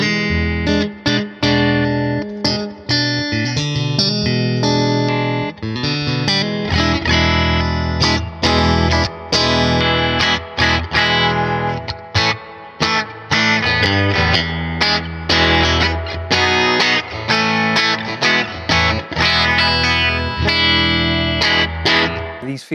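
Fender 50s Stratocaster electric guitar played continuously with busy picked notes and chords, clean-to-lightly driven tone, loud and close.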